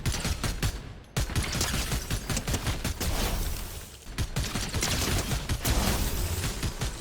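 Rapid bursts of automatic gunfire from hip-firing a gun in a video game, dense repeated shots in several long volleys separated by brief pauses.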